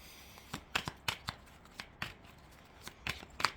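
Oracle cards are shuffled and riffled in a quiet room, giving a series of soft, sharp papery snaps and flicks in irregular bursts with short pauses between them.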